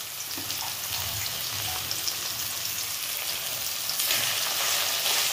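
Bathua (betho) greens frying in hot oil, a dense, continuous hissing sizzle like rain on a surface, close and steady with a brief surge in intensity near the end, no voices.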